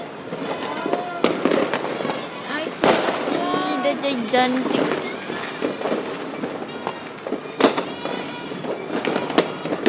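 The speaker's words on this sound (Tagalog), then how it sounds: "I want fireworks. Beautiful fireworks." New Year fireworks burst repeatedly in a loud, crackling barrage, with sharp bangs rising above steady popping while people talk and shout nearby.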